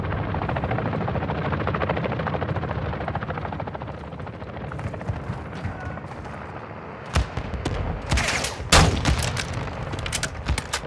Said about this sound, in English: Hey, chopper is behind us.